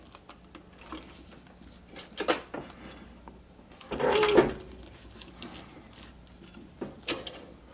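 A sewing machine backstitches across a fabric sun visor, with one short, loud run of stitching in the middle and scattered clicks and handling knocks before and after.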